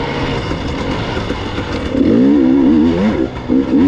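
A dirt motorcycle revs and accelerates on the King of the Motos race course, a loud close engine drone that climbs in pitch with rising and falling throttle sweeps in the second half.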